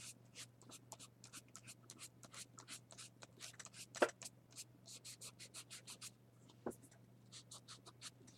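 Glue being rubbed onto tissue paper in a run of brisk, close scratchy strokes that repeat steadily over a low constant hum, with one sharper tap partway through and no talk.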